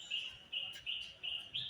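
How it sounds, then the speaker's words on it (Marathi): Repeated high, thin bird chirps in short bursts about every third of a second, fairly close and clear over faint outdoor background during an early-morning cricket outing with friends. "पक्षी काय भारी आहे."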